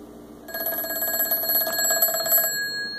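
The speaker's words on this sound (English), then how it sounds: "And you also hear the phone ringing." An old rotary telephone's mechanical bell, driven by an Arduino, rings steadily for about two seconds with a bright metallic trill, close and fairly loud, then cuts off abruptly.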